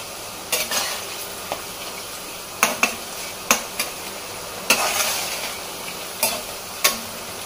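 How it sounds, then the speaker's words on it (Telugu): Bitter gourd curry frying in a pan with a steady sizzle, broken by sharp scrapes and clinks of a spatula stirring against the pan at irregular intervals, close and without talk. "బ్రౌన్ కలర్ వచ్చే వరకు మనం ఫ్రై చేసుకోవాలి"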